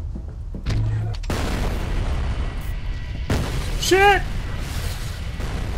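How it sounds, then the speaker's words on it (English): Heavy explosions boom in a chaotic firefight in the shooter game F.E.A.R. Perseus Mandate, with loud sustained blasts and rumbling debris, and a man swears over the din. "Fucking place is exploding on me"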